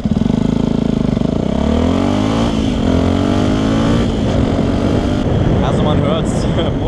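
A Yamaha WR 125 motorcycle with a LeoVince LV One exhaust revs and accelerates up close, its loud raspy engine note climbing and falling through gears, with a rider talking over it.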